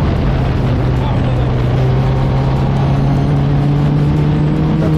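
A Formula 1 car engine in a racing video game gives a loud, continuous high-revving drone that holds steady throughout with no gaps.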